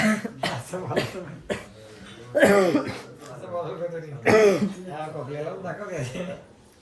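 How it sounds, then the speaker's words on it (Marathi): A man with a cold coughs and clears his throat several times in short harsh bursts, close up, between stretches of his own talking. "खोकला सुद्धा झालेला आहे मित्रांनो"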